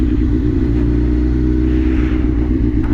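A Suzuki GSX-R1000 motorcycle engine idles with a loud, steady low rumble, heard close and continuous throughout without any rise in revs.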